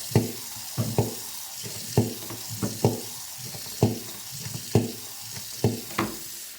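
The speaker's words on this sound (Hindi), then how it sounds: "अब मैंने यहाँ पर पोछे के पानी में डाल लिया सर्फ़ और उसके बाद अपना मॉप" String mop with a light steel-basket design sloshed in a bucket of water mixed with detergent powder, giving repeated wet splashes and swishes about once a second, close by.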